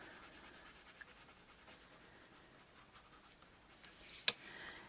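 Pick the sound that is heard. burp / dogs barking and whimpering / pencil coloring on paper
pencil coloring on paper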